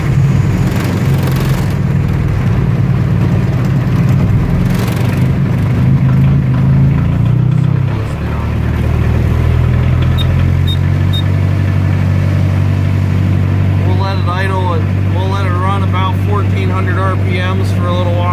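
A cold diesel engine idles steadily and warms up after glow plugs are cycled, a loud, continuous low rumble that shifts to a smoother note partway through, with someone talking over it.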